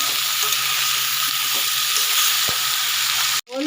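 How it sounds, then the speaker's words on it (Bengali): Small fish sprinkled with turmeric fry in hot oil, giving a loud, close, steady sizzle broken by a few sharp stirring clicks. The sound cuts off abruptly near the end. "হলুদ দিয়ে ভেজে নেব আমি ভালো করে একটু ভেজে নেব"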